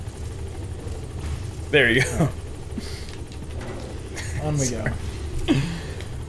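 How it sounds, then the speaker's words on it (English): Helicopter in the Metal Gear Solid V video game, a low steady rotor drone in the background under a player's talk. "get in the chopper!"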